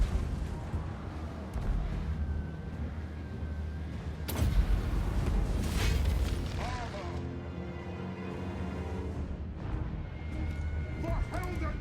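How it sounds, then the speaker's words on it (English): Cannons fire in an Empire: Total War battle, a sharp heavy boom near the middle followed by another blast, over a constant roar of battle noise with shouted voices. "Cannons fire!"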